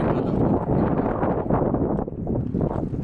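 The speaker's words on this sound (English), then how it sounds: "It's super gloomy and windy" Wind blows outdoors on a gloomy day, buffeting the microphone with a loud low rumble that surges and dips unevenly.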